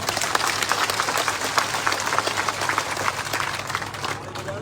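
Crowd applause at a political rally speech in Viratnagar, thick continuous clapping from a large gathering over a low steady hum, easing and thinning in the final moment.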